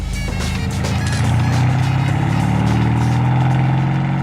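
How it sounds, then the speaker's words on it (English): Mercedes-Benz S63 AMG of about 800 horsepower with a full custom exhaust, a loud, deep, steady engine drone that swells slightly and holds near and constant. "This car in particular has about 800 horsepower and is extremely loud"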